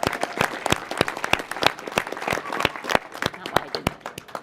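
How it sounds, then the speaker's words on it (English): An audience at a NASA iTech event at the Space Symposium in Colorado Springs applauds steadily, dense claps at close range for several seconds. "if I could ask all of you for a nice round of applause for Kira Blackwell and all the work she does"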